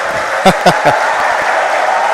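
Crowd at a Delta Cup 2023 basketball game between Apalit and Ing Bayung Mexico, a steady broad roar of cheering and noise with a few short sharp shouts near the start.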